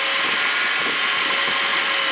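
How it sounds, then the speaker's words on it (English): During a dealership cold start, a 2009 Honda Accord's K24 2.4-liter engine idles with a smooth, steady, even hum and no breaks, close and constant. "This is the K24 engine."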